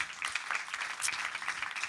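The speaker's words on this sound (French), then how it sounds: "en les applaudissant, on les remercie pour leur engagement" A congregation applauding in a church: brisk, even clapping from many hands, moderately loud and continuous for a couple of seconds.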